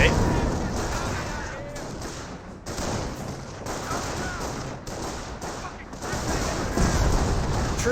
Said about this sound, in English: It's a great strafing run there, that's for sure.